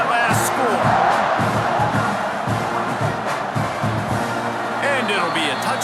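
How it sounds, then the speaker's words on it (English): A football stadium crowd roars and buzzes steadily at a college game between Auburn and Texas A&M, with a broadcast commentator talking over the dense crowd noise. "this crowd is buzzing after that last score"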